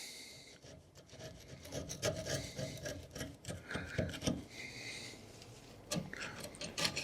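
An old screwdriver scrapes crusty corrosion and old underseal off a Jaguar X100 front suspension wishbone around the top ball joint, making repeated close, rough rasping strokes in an uneven rhythm with no talk.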